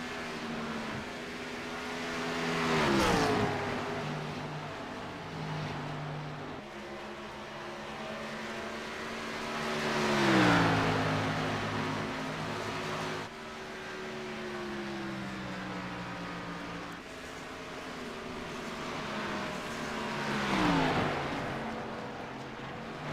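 Race cars circling an oval at Texas in a league racing video game, their engine notes swelling in three repeated pass-bys that rise and fall in pitch over a steady background drone, with no talk.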